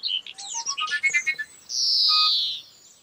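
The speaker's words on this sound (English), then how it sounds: "birdsong doesn't just sound like music, it is music" Bird song: a string of short, clear chirps and whistled notes, then one sustained bright trill. The calls are fairly close and stand alone with no talking.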